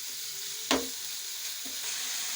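A pizza topping mixture fries in a pan with a steady, close hiss, broken by one sharp utensil knock and a softer second scrape.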